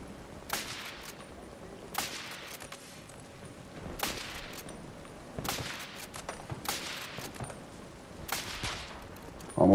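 Gunfire in the Battlefield 2042 Hazard Zone mode, aimed at a sniper atop a tower about 380 meters away: sharp repeated shots and bursts at irregular intervals, fairly loud over a steady background of battle noise.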